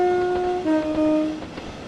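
A British Rail Class 805 train in Train Sim World 2 running at speed, a steady rolling rumble with sustained tonal horn-like notes shifting pitch midway, fairly loud and close.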